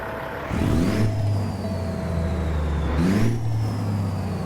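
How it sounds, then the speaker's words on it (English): A Kenworth W900 truck's Cat engine, heard from inside the cab, cranks with a whirring starter and catches, then settles into a steady low idle that swells again in a second revving surge. "That way we can hear the engine start up from inside."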